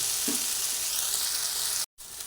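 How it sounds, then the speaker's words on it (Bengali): Taro leaves mixed with small shrimp frying in oil on low gas give a steady, close hiss with faint stirring, cut off by a brief silence near the end and then resuming. "এই কচুর শাকটার মধ্যে ভালোভাবে মিশিয়ে দিচ্ছি এইভাবে আবার কিছুক্ষণ গ্যাসের তেলটা একদম কমিয়ে দিয়ে রেখে দেব"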